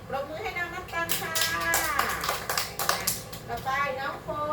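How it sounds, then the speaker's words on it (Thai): A group of young children in a Thai phonics reading class clap their hands together in a brisk, uneven burst of applause lasting several seconds, mixed with chatter and a teacher's voice. "ปรบมือให้น้อง"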